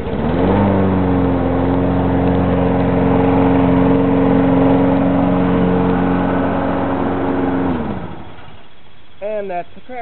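Craftsman 6.5 horsepower push mower engine catches and runs at a loud, steady droning pitch for several seconds, then cuts off abruptly, leaving a quieter tail with a brief voice at the end.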